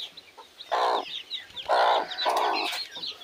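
Chickens raised free-range cluck in short bursts, a few hens calling close by with brief pauses between, faint bird chirps in the background.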